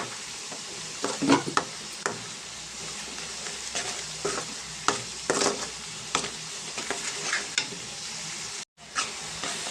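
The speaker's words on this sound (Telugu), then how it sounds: "ఇదంతా కూడా మనకి ఈ ఉల్లిపాయకి బాగా కలిసేంత వరకు కొంచెం సేపు కలుపుకుందామండి" Spoon stirring chili powder, coriander powder and masala into onions frying in a pan for an Andhra-style small fish curry, giving a steady sizzle with repeated scraping strokes close by and no talking.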